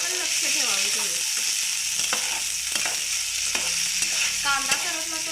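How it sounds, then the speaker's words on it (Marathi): Cluster beans and onion roasting in a pan, with a steady sizzle broken by stirring scrapes and clicks of a spatula against the metal. It is close and continuous, and no one speaks. "तर आपण इथं गवारी थोडी भाजून घ्यायची आहे"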